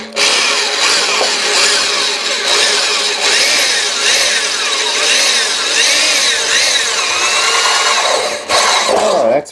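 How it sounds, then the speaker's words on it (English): A power drill bores a hole up through the hull of a 1992 Titanic model, its whirring motor running steadily and loudly almost without pause, with brief dips in pitch as the bit works through the material. "We're going to drill a hole at the base up through the hull"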